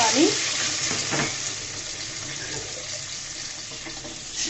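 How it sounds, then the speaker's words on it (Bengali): Water is poured into a pan where dried fish is frying with onion and garlic, a close, loud splash and sizzle that starts sharp, then settles into a steady bubbling hiss. "পানিটা অ্যাড করে দিয়েছি যেন শুকনো মশলাগুলো দিলে পুড়ে না যায়, সেজন্য আমি পানি দিয়ে দিয়েছি।"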